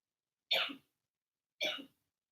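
A girl gives two short, sharp coughs about a second apart, fairly quiet, with silence around them.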